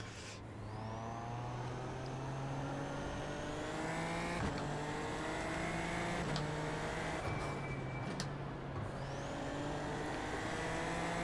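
A Super Formula Lights race car engine in the iRacing video game screams at high revs with rising pitch sweeps and crisp gear shifts, loud and continuous from start to finish with no talking.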